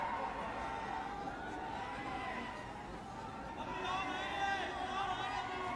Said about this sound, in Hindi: बहुत सारे लोग आ गए, बहुत भीड़ है, बहुत अच्छी बात है।